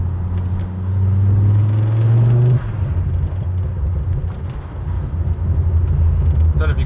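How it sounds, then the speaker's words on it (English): A Ford Focus ST engine rumbles and revs up, then the exhaust drops into low burbling and crackling pops on the overrun, loud and close with a steady road-car drone underneath. "you can hear the pops and burbles that I was on about that it does now"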